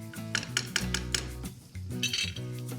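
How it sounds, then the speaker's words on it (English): Onions being stirred in olive oil in a pan, a close series of scraping and clinking strokes of a utensil against metal with a faint sizzle underneath, no talking. "I'm just gonna give that a stir"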